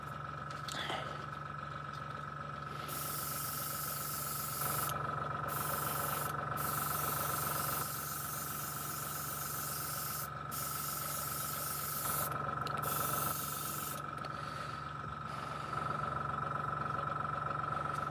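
Airbrush spraying lacquer paint onto a die-cast Corgi Bedford tractor unit model, a steady close hiss of compressed air that runs on in long bursts with brief cut-offs between passes.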